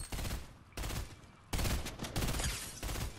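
Gunfire in Fortnite comes in loud, close bursts of rapid shots, four or five volleys separated by short pauses, with no talk.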